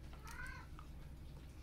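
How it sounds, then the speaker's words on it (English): A pet cat gives one short, faint meow that rises and falls, set against a quiet, steady indoor background. "Because you're a kitty."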